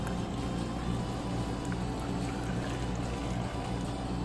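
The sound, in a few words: pouring water to reuse it for a Color Reveal Barbie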